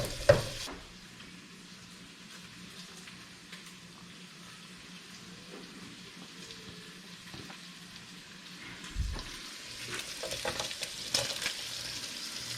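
Bacon frying in a pan for fried rice with eggs and Chinese sausage, a low steady sizzle that swells into louder crackling and spattering toward the end, with occasional stirring clatter.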